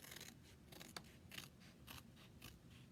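Scissors snip rapidly to cut out a Chalk Couture transfer, a close, quiet run of about half a dozen crisp rhythmic cuts with no talking.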